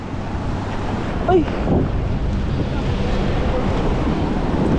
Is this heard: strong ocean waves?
yes